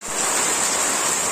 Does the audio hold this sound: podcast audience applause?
no